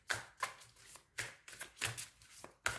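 Tarot cards shuffled by hand in a series of crisp riffling bursts, about six quick flurries with short pauses between, close and fairly quiet, with no talking.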